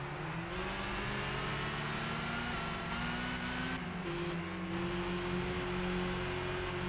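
A Honda Civic Type R race car engine in Gran Turismo 5 drones steadily at high revs, with pitch shifting slightly across gear changes and continuous road and engine noise throughout.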